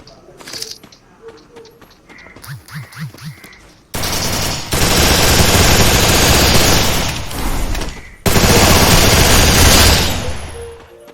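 Loud bursts of automatic gunfire from a video game shooter, two long sustained volleys after a quieter opening with scattered shots and soft bird-like coos.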